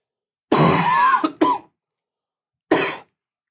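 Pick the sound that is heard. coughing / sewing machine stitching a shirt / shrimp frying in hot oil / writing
coughing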